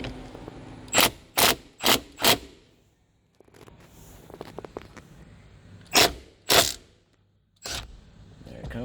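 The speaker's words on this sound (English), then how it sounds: "Just need to impact on this guy right here." An impact wrench rattles a steering wheel nut on a 2011 Toyota Tundra. Four short, loud bursts come in quick succession, then a quieter stretch with faint handling noise, followed by two or three more bursts up close.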